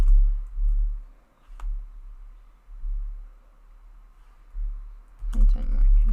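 Sparse keyboard key clicks tap close by over a low room hum, then a quicker cluster of taps near the end.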